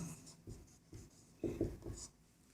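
A pen scratches across paper while a math solution is written out by hand, in short, faint, rhythmic strokes with small pauses between them.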